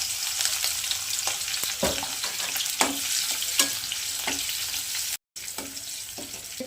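Chili being added to hot fried oil for semolina manchurian, giving a steady close sizzle of frying with occasional stirring clicks and scrapes, no talking.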